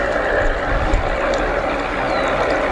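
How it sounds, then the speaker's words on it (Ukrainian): Remote-controlled bait boat launched onto a public pond for fishing, its small motor giving a steady, continuous broadband whirring hiss with light water noise, fairly close and unbroken throughout. "Так, ну що, поїхав. Поїхав корабель."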